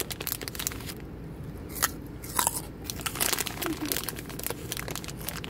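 Bolthouse Farms premium sweet petite carrots being bitten and chewed up close, with sharp crunchy snaps and wet crackling mastication repeating over several seconds, fairly quiet.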